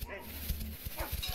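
An evil-eyed dog in the video game Cantrip barks in a few short, close yaps over steady background game sound.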